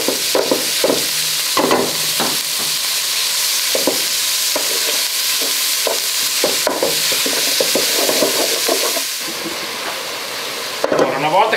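Ground meat sizzles steadily in a pan with browned onion for supplì, a dense continuous fry punctuated by repeated stirring scrapes and clacks, close and fairly loud, with no talking.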